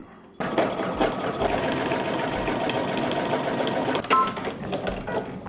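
Sewing machine stitching a buttonhole in fabric near a belt loop, a steady fast mechanical whir and stitch rhythm running close and loud for about four seconds, then a brief clunk as it slows and stops.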